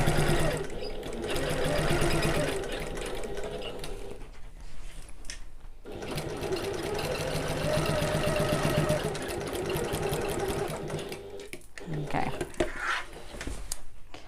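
A sewing machine set to its longest stitch runs across bulky bag lining, a close, continuous mechanical chatter broken by two short pauses.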